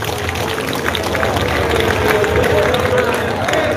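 Applause from a gathering at a police ceremony in Samosir for a vaccination team, steady clapping and crowd noise at a constant loud level.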